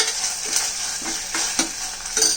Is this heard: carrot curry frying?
yes